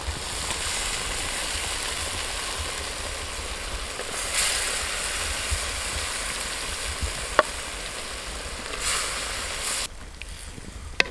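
Long-sliced tender coconut fries in a pan with a continuous, even sizzle, broken by a few stirring clicks and a sharp tap before the sound drops quieter near the end.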